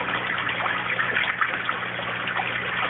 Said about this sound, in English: Goes through this pipe and then trickles out down there.